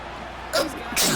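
A sneeze bursts out sharply over the steady hum of a football video game broadcast, two quick breathy blasts close by.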